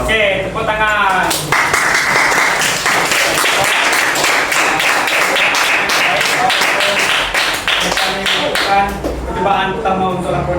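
A class of secondary students claps together in a classroom, a dense burst of applause that lasts several seconds, with voices mixed in.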